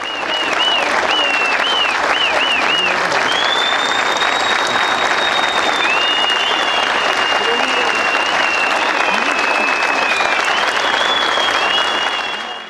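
Sustained applause from a crowd at a health professionals' protest outside a health directorate in Eskişehir, steady and loud throughout, with a few whistles and shouts mixed into the dense clapping.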